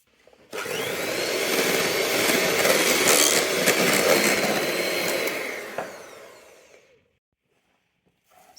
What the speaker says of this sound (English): Now you want to mix together your sugar, your egg yolks and your butter.